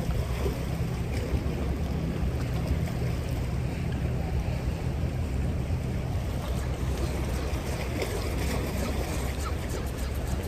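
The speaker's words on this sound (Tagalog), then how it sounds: "Dumadaan na bangka." A boat moves across open water near a fishing spot in Saipan, its low engine rumble steady beneath strong wind buffeting the microphone and the wash of waves.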